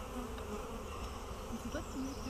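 A dense, steady drone of many honeybees buzzing around an opened hive during a spring inspection, loud and close, holding evenly throughout with no talk.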